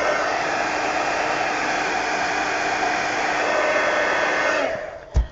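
A hair dryer blowing on mixed media collage art cards, a loud steady close whoosh that runs continuously and then cuts off, followed by a short clunk.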